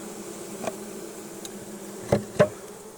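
Honeybees at a hive buzz faintly in November in a steady drone, with a few louder passes as individual insects fly close by.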